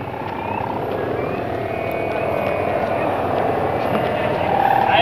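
A steady drone from a kite hummer (sendaren) on a flying kite fills the air, continuous and fairly loud, with a faint high whine running above a broad rumbling wind-like wash.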